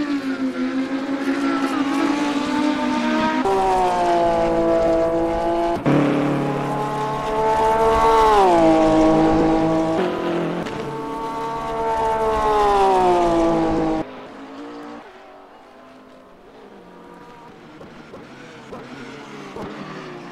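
GT series race cars at Virginia International Raceway roar past with loud, bending engine tones that rise and fall for about fourteen seconds, then drop to a quieter, more distant hum.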